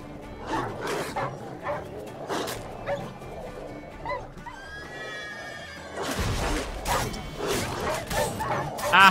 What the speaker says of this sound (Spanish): perros tontos